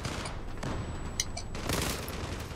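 Gunfire crackles through a firefight in a video game, with bursts of shots and a couple of sharper reports over a dense, continuous din.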